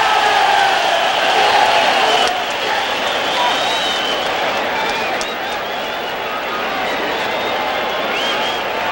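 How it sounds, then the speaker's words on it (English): A big boxing crowd in Mexico City roars and applauds for a fighter. The dense, loud cheering is sustained throughout with a slight dip partway through, and no single voice stands out from the mass. "he is being saluted by this crowd in Mexico City"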